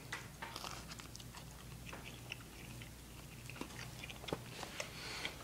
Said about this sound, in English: I'm about to eat, so I got a cheesy pita. I haven't taken a bite of it yet